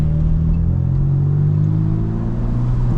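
A BMW M4 engine drones steadily while the car is driven, a loud, continuous mid-pitched hum with a sustained tone and no talking over it.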